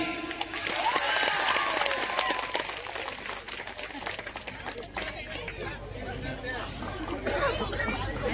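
Spectators at an Odia comedy show during Agria Mahotsav 2025 clap and cheer amid crowd chatter and background babble, a busy, sustained mix of applause and voices with music-like tones underneath.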